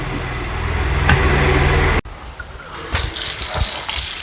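Tap water gushes steadily while sweet potatoes are washed for boiling, a full rushing stream for two seconds, then softer intermittent splashing and handling noises close by.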